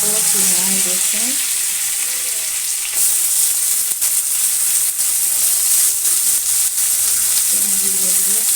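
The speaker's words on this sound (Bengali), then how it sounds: "তেলের ওপর পেঁয়াজ রসুন" Onion and garlic fry in hot oil in a wok, giving a steady, loud, close sizzle that continues the whole time. Brief stirring scrapes and faint clatter sit on top of the sizzle, and nobody speaks.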